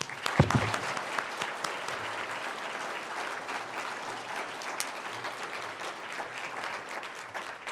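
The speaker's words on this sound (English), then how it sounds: "please join me in giving a nice round of applause" Steady applause from an audience at a county judge executive candidate forum, starting with a few loud claps and then settling into an even, sustained clapping that carries on throughout.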